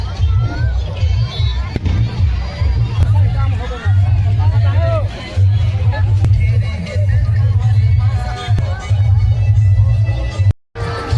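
Large crowd at a Kabir saint gathering in Bodla, Chhattisgarh, a steady babble of many voices with a low rumbling drone underneath, close and loud throughout, ending in a brief cut.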